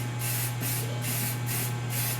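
A spray can of enamel paint hisses in several short bursts, each a steady rush of spray, over a low constant hum.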